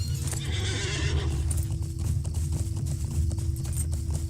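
Steady clip-clop of horse hooves trotting at an even rhythm, close and clear, with a low rumbling background and a faint whinny, in the video game Farming Simulator 22.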